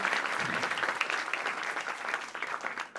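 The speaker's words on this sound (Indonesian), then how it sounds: "Boleh tepuk tangan buat kalian semua yang meriah dong." Audience applause fills a stand-up comedy show, a dense, steady clatter of many hands clapping for about three seconds with no speech over it.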